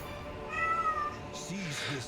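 Near and clear, a housecat lets out a single rising-and-falling meow, then a low voice speaks briefly over quiet video-game ambience.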